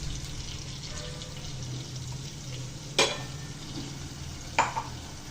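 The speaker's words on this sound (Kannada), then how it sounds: "ಚೆನ್ನಾಗಿ ಲೋ ಫ್ಲೇಮಲ್ಲೇ ಫ್ರೈ ಮಾಡಬೇಕು" Ground masala for pepper rasam fries on a low flame in a pot with a soft, steady sizzle, broken by two sharp stirring scrapes.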